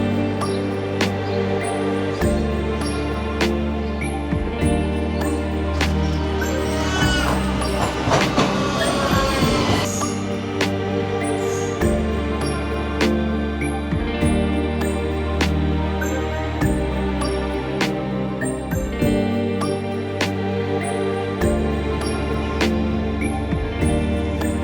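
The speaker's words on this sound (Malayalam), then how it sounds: "ട്രെയിൻ വന്നിറങ്ങി ഹൽസ്റ്റാട്ട് സ്റ്റേഷനിൽ" A train travelling through Austria toward Hallstatt station rumbles steadily with rhythmic clickety-clack of wheels on rails and a brief squeal, heard from inside the carriage under background music.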